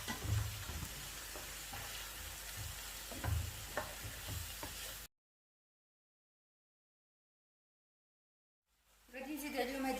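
Fish pastilla filling with herbs and parsley is stirred and mixed in a pan, giving a steady close scraping and sizzling texture for several seconds, then a silent gap before the stirring resumes.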